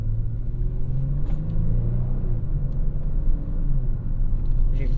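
A 2022 Kia Stinger GT2 is driven on scenic Kentucky roads, heard from inside the cabin as a steady low engine and road rumble with slight rises in revs.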